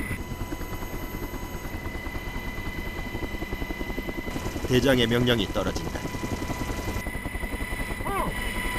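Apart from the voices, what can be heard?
military helicopter hovering at the drop point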